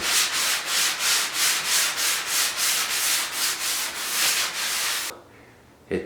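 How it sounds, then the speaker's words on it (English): Hand sanding of dried spackle filler on a wooden bathroom cabinet, a steady rhythmic rasp of back-and-forth strokes, about a dozen even passes close by before it stops. "So you can see where I just filled this in with spackle. I'm going to just lightly sand it."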